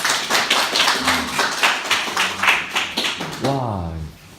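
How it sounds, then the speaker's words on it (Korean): A group claps after a team presentation in a training class, steady applause of several people for about three seconds, followed by a person starting to talk. "오케이, 박수."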